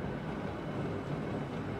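A tram rolls past on a city street in Kassel within Euro Truck Simulator 2, a steady low rumble of wheels on rails that holds at an even level throughout, with no voices.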